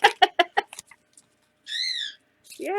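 A pet bird lets out harsh, rising squawks, one in the middle and a louder one at the end, after a run of clicking taps, close and loud against silence.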